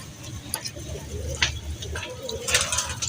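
High-flying pigeons kept by a fancier coo in low, soft murmuring bursts close by, with a few sharp ticks and clicks and some background voices.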